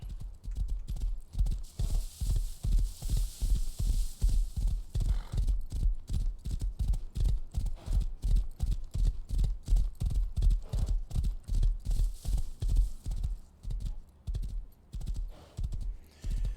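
Steady clip-clop of horse hooves in the Rust zombies game, a regular rhythmic beat sounding loud and close for the whole stretch, with no voices over it.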